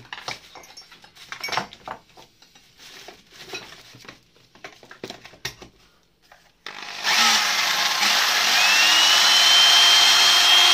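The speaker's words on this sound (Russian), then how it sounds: "Вот я сейчас дрель возьму." A few quiet clanks and handling sounds, then an electric drill starts and runs loud and close, its whine steady and slightly rising.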